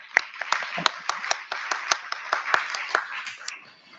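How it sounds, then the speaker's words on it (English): A small audience claps for panelists at a capacity-building forum, scattered distinct hand claps in a loose rhythm, fairly quiet and fading at the end. "Let's give them a round of applause once again."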